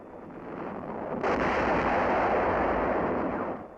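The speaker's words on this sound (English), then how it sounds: "TNT charges for blowing up and sealing the wall's underground tunnel system." A loud, sustained blast roar from TNT charges set off to seal an underground tunnel system beneath a wall in wartime Manila, swelling abruptly and rumbling broadly for several seconds before fading, with no voices.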